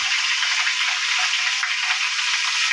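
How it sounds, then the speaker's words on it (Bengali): Garlic paste dropped into hot oil sizzles and fries steadily, a close, continuous bright crackle with no break and no voices. "ওই তেলের ভিতরেই রসুন বাটা দিয়ে দিতেছে।"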